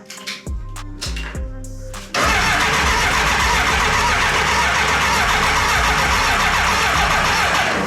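A BMW K100 motorcycle engine is cranked by the starter in a few short bursts, then catches and runs loudly and steadily close by, with a fuel-injector leak on the bike.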